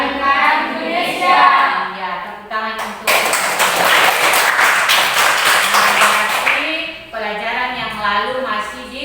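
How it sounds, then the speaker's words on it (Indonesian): Classroom applause, a few seconds of loud close clapping from students that bursts in between stretches of a teacher talking. "tepuk tangan untuk"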